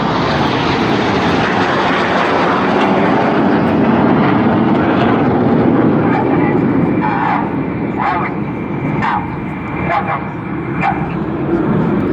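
Red Arrows jet aircraft fly an airshow display, a loud, steady roar of jet engines filling the whole stretch while a commentator talks and a dog barks repeatedly in the latter half.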